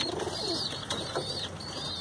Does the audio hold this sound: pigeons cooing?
yes